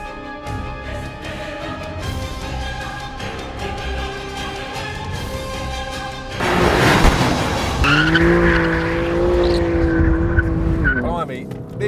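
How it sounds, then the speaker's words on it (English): A BMW M car accelerates hard out of the last corner of a race track and across the line, its engine note rising through the gears, with a burst of tire squeal and roaring exhaust before the revs settle. "accelerating out of the last corner and across the line"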